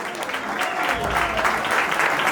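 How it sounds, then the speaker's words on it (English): An audience at a comedy roast in a garden venue applauds, a dense crowd of clapping hands that swells after the first second and holds loud and steady, with faint voices mixed in. "Give yourself a round of applause for that."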